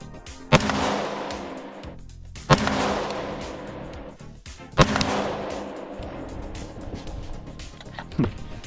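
Three loud, sharp rifle shots from a Haenel CR223 fired outdoors while zeroing a cheap optic with Winchester ammunition, spaced about two seconds apart, each followed by a reverberant tail over steady background noise.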